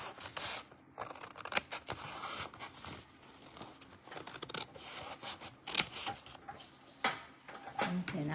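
Scissors snip through paper while a journal page is cut out, giving a series of close, crisp cuts and rustles at an uneven pace, with soft handling sounds between them.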